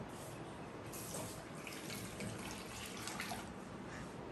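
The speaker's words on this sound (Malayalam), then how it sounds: "ഇനി നമുക്ക് ഒരു ബൗളിലേക്ക് കുറച്ച് പാൽ ഒഴിച്ചു കൊടുക്കാം" Milk pours into a bowl while making a mango dessert, a soft continuous liquid splash and trickle, close but low in level and steady, with no talking.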